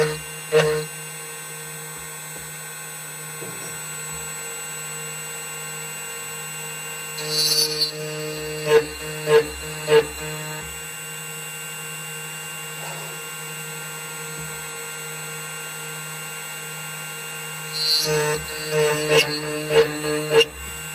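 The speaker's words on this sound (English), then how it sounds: "Input the number of every wafer into the machine. The first 2 wafers are used for ignition lock. Input double 1 is OK. And cut." A 2M2 Tank CNC key cutting machine hums steadily while cutting a Toyota key, with a constant motor drone and a few louder whirring passes and clicks.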